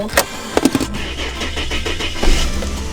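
Engine of a Ford AU Falcon drift car being started: a few sharp cranking bursts, then a steady, close-up idle rumble that swells briefly near the end.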